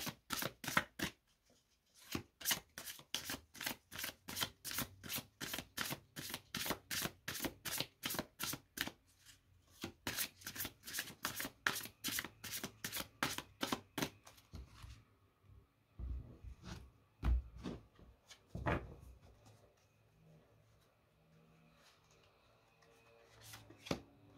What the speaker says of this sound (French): je vous laisse le temps que je batte les cartes